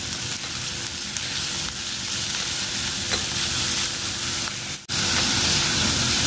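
A medium onion sautéing in oil, a continuous loud sizzle and fry hiss with occasional stirring, steady throughout apart from one brief dropout near the end.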